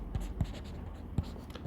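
Quick strokes of writing on a board during a high school math lesson: a few soft, distinct taps and scrapes, spaced irregularly over a quiet room background with no talk.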